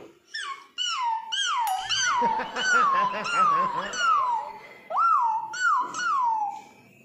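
A human voice imitates a puppy: a close, loud run of about a dozen high whimpering yelps and whines, each sliding downward in pitch, delivered in quick succession with brief pauses.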